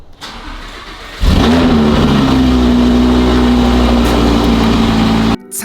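An Audi R8 engine starts up on a hot day: after a quiet lead-in, a loud crank catches and settles into a steady, close, throbbing idle that holds for several seconds before cutting off, with no talking.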